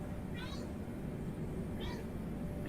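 A Maine Coon cat lets out two or three short, faint meows spaced a second or so apart, heard indoors over a low steady hum.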